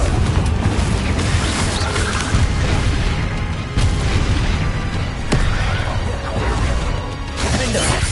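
Hogwarts Legacy's Confringo fire-blast spell produces dense, roaring explosions and crashes that pile up in a constant loud barrage of booms throughout a game battle.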